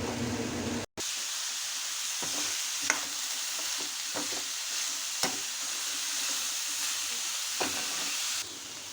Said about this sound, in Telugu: ఇప్పుడు రాడిష్ ముక్కలు వేసుకున్నాం. వేసేసాను, ఫ్రై చేసుకోవాలి.